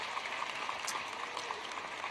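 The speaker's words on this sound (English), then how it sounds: "give them a warm round of applause." Audience applause at a university commencement, a faint, steady patter of clapping from a distant crowd in a large hall.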